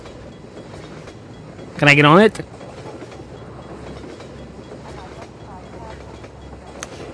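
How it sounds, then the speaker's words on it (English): A train rolls past in Half-Life 2 with a low continuous rumble. A loud screeching burst lasts about half a second partway through, and a voice speaks briefly over it. "It's a train."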